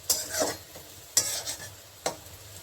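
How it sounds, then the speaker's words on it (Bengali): Lentil fritters (bora) made from mixed pea and chana dal being turned and stirred in a pan, with three sharp scraping clatters of a spatula over a faint background sizzle of frying oil. "এই যে বড়াগুলো আমি এরকম ভেজেছি এখন এই বড়াগুলোকে আমি তুলে নিচ্ছি"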